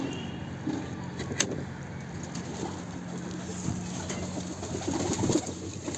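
Low pigeon coos rumble softly inside a coop amid shuffling and background hum, with occasional knocks and rustles.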